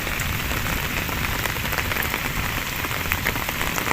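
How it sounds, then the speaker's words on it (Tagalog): Steady rain pours down at Bilibiran Park, a dense continuous hiss of drops striking surfaces, loud and close, with no voices. "Naabot na naman kami ng ulan dito sa sa Bilibiran Park."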